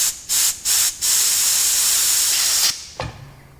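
Short bursts of brake cleaner spray shot through a Massey Ferguson 135 tractor injector pipe: three quick hisses followed by one long sustained spray, then a light metallic tap as it stops.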